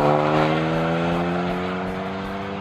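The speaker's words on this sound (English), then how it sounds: "As an American Thunder system, it will typically produce a moderate to aggressive sound level while providing a deep performance tone." 2013 Ford Focus ST with a 2-liter turbocharged engine and a Flowmaster American Thunder stainless catback exhaust, 2 1/4 inch mandrel-bent tubing, holds a deep, steady droning note with strong harmonics, loud and close, easing slightly as it continues.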